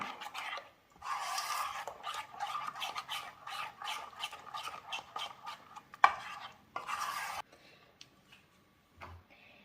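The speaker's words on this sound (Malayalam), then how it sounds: "ഉപ്പെല്ലാം ചേർത്താണ് നമുക്കിത് നന്നായിട്ടൊന്ന് മിക്സ് ചെയ്യാം." A spoon stirs ragi batter mixed with water and salt in a bowl for a ragi vattayappam, giving rapid scraping clicks in bursts that pause briefly, close and clear with no talking.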